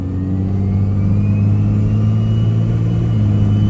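A tuned Cummins diesel truck on a test drive accelerates with a steady, deep engine drone and a faint rising whine, heard from inside, loud and continuous with no talking.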